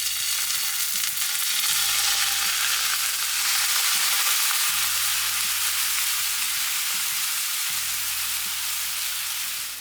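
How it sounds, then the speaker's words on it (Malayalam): Milk poured over bread in a hot pan, giving a loud, continuous broadband sizzle that holds steady from start to finish. "ഇനി നമ്മൾ ഇതിൻ്റെ മുകളിലേക്ക് കുറച്ച് പാൽ ഒഴിച്ചു കൊടുക്കുകയാണ്."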